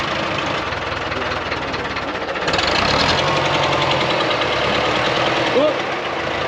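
The engine of a 1960 International 460 tractor runs with a loud, rough, knocking idle that grows louder partway through and holds steady, with people talking nearby.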